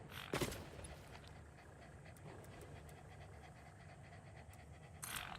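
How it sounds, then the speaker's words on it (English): Dogs pant close to the microphone with rapid, steady breathy puffs that run the whole time, plus a sharper burst near the start and another near the end. "Stop breathing on me, dogs."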